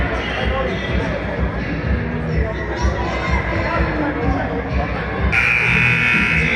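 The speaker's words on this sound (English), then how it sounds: "Finally, the timekeeper blows the buzzer." A timekeeper's buzzer sounds near the end of a tight basketball game, rising over steady crowd noise and chatter in the gym and holding as a sustained tone for the final second or so.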